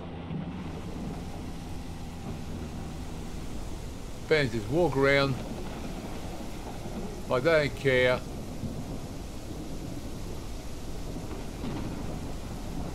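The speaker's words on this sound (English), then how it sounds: "God, the storm is loud." A thunderstorm in the game Mist Survival brings a steady wash of rain and low rumbling thunder throughout, loud and continuous, with someone talking briefly over it twice.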